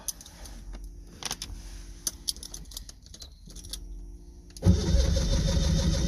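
An old carbureted engine with a manual choke and no accelerator pump cranks in several uneven bursts, the starter churning and stopping, then catches and runs rough and loud near the end.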